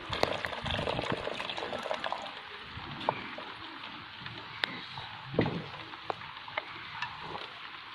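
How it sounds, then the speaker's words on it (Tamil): Tamarind water poured into a pan of boiling red snapper fish curry, giving a steady quiet liquid splashing and trickling with small bubbling pops throughout. "நான் கரைச்சி வச்சுருக்கிறேன் புளி கரைசலை சேர்த்துக்கிறேன்"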